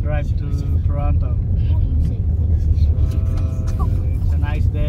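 Cabin of a Dodge Caravan on the road toward Toronto on a windy afternoon, with a steady low road and engine rumble throughout and people chatting over it.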